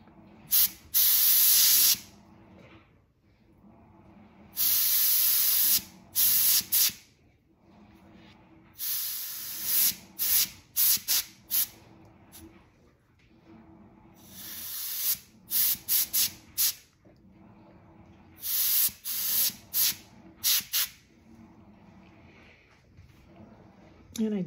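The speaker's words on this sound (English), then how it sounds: "Give it a little spray." Short bursts of alcohol ink sprayed from a spray bottle onto an abstract flower painting, several separate hissy spritzes spaced out over the stretch, close and fairly loud against quiet background.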